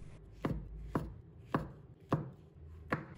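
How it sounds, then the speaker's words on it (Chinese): A knife chopping fresh shiitake mushrooms into small pieces on a board, five spaced, solid thuds at an even slow rhythm, close and clear with no talk. "再准备几个鲜香菇，把它切成小块"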